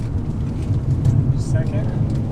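An Infiniti G35 driving in third gear in manual mode gives off a steady, low engine drone with road rumble from inside the car, and a voice is heard over it.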